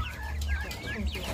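Chickens cluck in short, rapid bursts close by, several overlapping calls rising and falling over a low rumbling background, with no clear speech.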